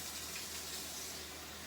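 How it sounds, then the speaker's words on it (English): Warm water runs in a steady, even pour into a puppy's food bowl, a soft continuous splashing hiss heard close up for under two seconds, with no voices. "I put a little bit of warm water"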